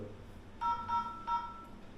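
Three short telephone keypad tones, evenly spaced and clear, over a faint background hiss.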